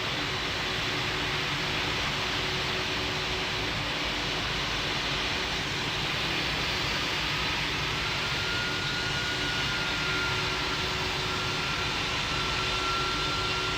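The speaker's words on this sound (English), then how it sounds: "United 8945, you're cleared for takeoff on runway 35." Airliner taking off in a flight simulator game, a steady loud jet engine roar with broadband rushing noise sustained throughout, no voices.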